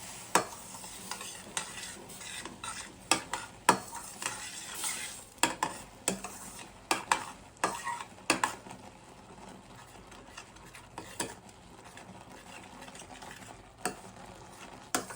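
Semolina is stirred in milk in a pan for custard apple ravva kesari, a spoon scraping and clacking against the pan in irregular close bursts over a soft bubbling background.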